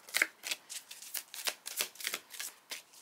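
Tarot cards being shuffled by hand before an advice card is drawn, a string of quick papery riffles and flutters repeating in an irregular rhythm, close and alone with no talking.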